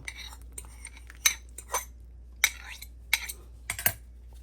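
A spoon stirs a yeast mixture in a bowl for keema naan dough, giving scattered sharp clinks and scrapes against the bowl at an irregular pace, fairly close and quiet, with no talking.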